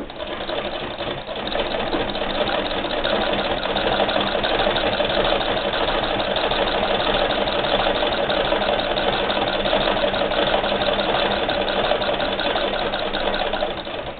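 An 1891 White VSII b treadle sewing machine stitching fabric, giving a steady, continuous mechanical whir and rapid clatter at an even level throughout, close and alone with no talk.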